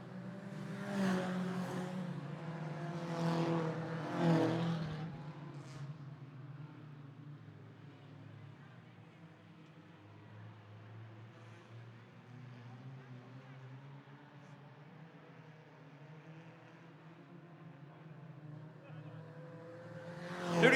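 Small race cars circle the Potomac Speedway track in a distant engine drone that swells as they pass, while an announcer calls the race over it, louder near the start.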